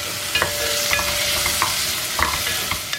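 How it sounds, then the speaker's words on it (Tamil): Onion, ginger and other ingredients for mushroom masala sizzle steadily in a hot oiled pan, with soft scrapes and clicks of a spoon stirring every half second or so, close and continuous with no talking. "நல்லா வதக்கிக்கலாம்."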